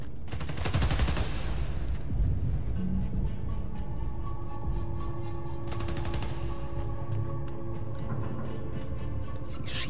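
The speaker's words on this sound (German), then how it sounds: "Sie schießen auf Transformatoren." Gunfire in Spider-Man: Miles Morales, with bursts of rapid shots crackling through a busy game soundscape, loudest early and again midway, over steady tonal hums and background action.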